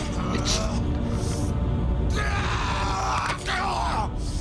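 A drawn-out, strained scream from a character in a Yakuza 0 Director's Cut English dub, loud and sustained over game sound with groaning, yelling bursts rising and falling across the moment.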